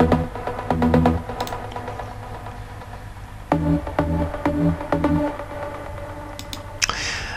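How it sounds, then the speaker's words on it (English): A detuned trance synth pluck patch from Spire, processed with delay and reverb, plays a rhythmic sequence of bright repeated notes with echoing tails, with no talking. "It's just a simple detuned trancey sound with some delay and reverb."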